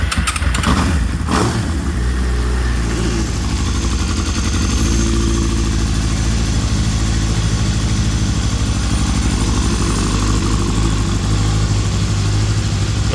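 A Suzuki GSX-R 750 K7 sport motorcycle, partway through a rebuild, cranks briefly, fires up and settles into a steady, loud, close idle that runs on evenly.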